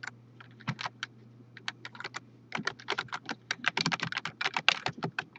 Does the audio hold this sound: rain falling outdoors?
no